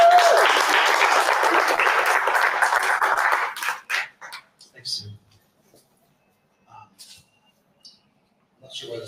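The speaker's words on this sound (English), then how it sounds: "I want you to all give Dan a big round of applause again" Close, lively round of applause from a small audience at a restaurant listening session in Karen, Nairobi, lasting a few seconds, then breaking into a few scattered claps and quiet noises.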